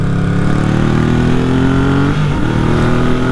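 A Yamaha XS750 motorcycle engine with freshly cleaned carburetors revs up past 2,000 RPM, a loud, steady mid-pitched roar that climbs and holds close by, dipping briefly before settling again.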